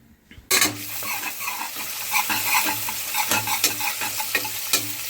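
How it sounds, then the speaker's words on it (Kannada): Onions with ginger-garlic paste sizzle steadily in a pan, with a spoon scraping and stirring in repeated strokes, close and moderately loud, no talking. "ಸೊ ಈಗ ಈರುಳ್ಳಿ ಶುಂಠಿ ಬೆಳ್ಳುಳ್ಳಿ ಪೇಸ್ಟ್ ಹುರ್ಕೊಂಡಿದ್ದೀನಿ."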